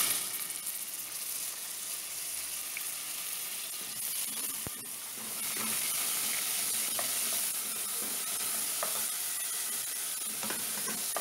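Chopped onion hits a pan of already-fried garlic and sizzles hard and steadily, with a bright continuous hiss and occasional stirring scrapes, close and with no voices.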